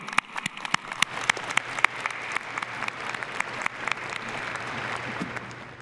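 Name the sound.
audience applause at graduation ceremony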